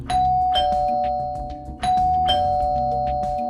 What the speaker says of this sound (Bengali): 3য় নামহীন ফ্ল্যাটটার কলিং বেল চাপল